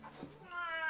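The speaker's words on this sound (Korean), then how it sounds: "고양이 들어서 냐아 이랬어" Indoor cat meowing at a door to be let in, a short close meow rising into a drawn-out tonal cry lasting about a second.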